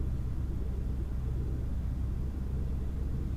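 A truck engine in Euro Truck Simulator 2 slowly climbing in revs, a low, steady drone that stays fairly quiet and even throughout, with no voices.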